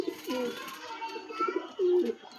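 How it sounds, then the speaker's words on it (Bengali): A female pigeon gives soft, low coos in a few short bursts at close range, with faint voices and background chatter around it. "তো এই হচ্ছে মাদি পায়রাটা"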